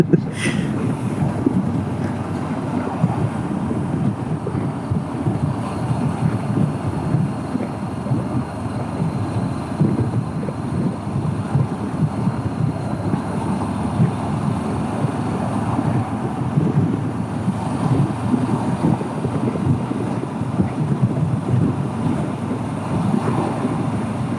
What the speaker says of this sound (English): Windy. Yeah, 11-mile-an-hour wind forecast is full of shit.